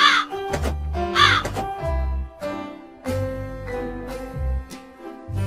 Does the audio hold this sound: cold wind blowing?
no